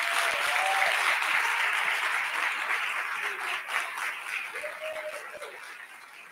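Applause from a church audience for a music trio, a thick wash of clapping that starts full and gradually thins and fades, with faint voices underneath.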